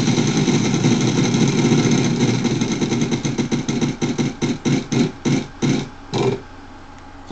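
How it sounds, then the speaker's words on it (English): A prize wheel spins in the Wheel of Fortune game for Nintendo DS, its dense rapid ticking slowing into distinct clicks before stopping, loud and alone. "Spin that wheel."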